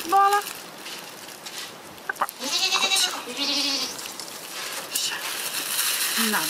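Goats bleat in several wavering calls, near and fairly loud, with some background noise and a voice in between.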